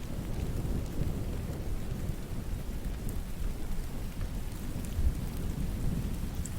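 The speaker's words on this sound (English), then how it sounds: "Thunderstorms are the most common form of violent weather on Earth" A thunderstorm with steady heavy rain pouring down, a dense continuous hiss and patter, while low thunder rumbles faintly beneath it throughout.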